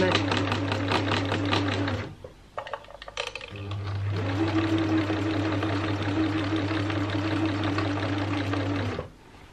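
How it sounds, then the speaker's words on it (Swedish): Sewing machine running steadily as it stitches gathers into wedding dress fabric, a close, even mechanical whirr that stops briefly for a few clicks and shuffles, then resumes for several seconds before halting. "7 brukar nog ändå vara bra på min maskin"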